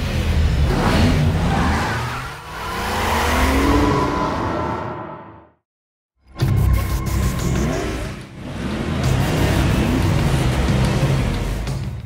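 In the Real Racing video game on an iPad, a race car engine revs and whooshes past with brief tire squeal. It is loud and continuous, drops out completely for a moment, then returns with more revving and skidding.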